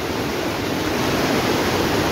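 Water of the Doodh Ganga river, just crossed on bicycles, rushes in a loud, continuous, dense roar close by, with no pauses and no voices.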